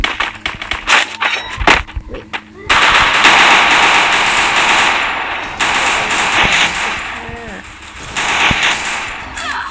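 Rapid automatic gunfire from a first-person shooter match between blue and orange teams, with dense bursts and sharp single shots over steady game noise, loud and close throughout, while a voice talks beneath.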